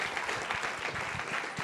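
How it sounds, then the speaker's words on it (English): A room full of people at a panel discussion on blockchain and free software claps in a brief, dense burst of applause heard from a distance. "So could we have a round of applause for the smart people in the room"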